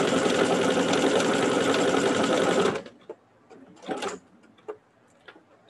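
A sewing machine stitches fabric in a fast, loud, even run for nearly three seconds, then stops abruptly, leaving a few faint clicks and handling noises.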